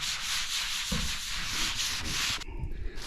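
Drywall joint compound is sanded with a dustless sanding tool, a close, continuous scratchy rubbing that stops abruptly near the end, leaving a few faint bumps.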